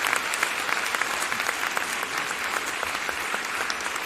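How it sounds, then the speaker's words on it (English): A crowd breaks into steady applause, many hands clapping densely and continuously at an even loudness throughout. "There's your celebratory hand clap."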